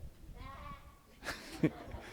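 A person imitates a sheep's bleat, producing one wavering, quavering bleat at moderate volume, followed by a short, sharper vocal burst near the end.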